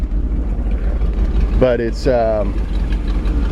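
A 1954 Ford F100 pickup truck engine idling through its exhaust, a steady low rumble running throughout, briefly overlaid by a couple of spoken words.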